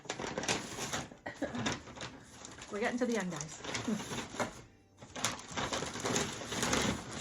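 Taped wrapping paper crinkles and tears as thrifted items are unwrapped, a continuous close rustling broken by a brief pause, while a person talks over it.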